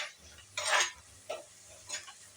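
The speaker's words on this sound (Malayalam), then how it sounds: "നല്ലപോലെ ഇളക്കി കൊടുക്കാം." Spoon stirring Kozhuva fish peera with green chillies in a pan, a few close scraping strokes against the metal with a soft sizzle underneath.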